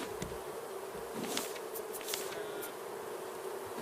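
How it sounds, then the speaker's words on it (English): A swarm of bees drones in a steady buzz, with a few brief louder passes as individual insects fly close by. No talking is heard. "Listen to those bees."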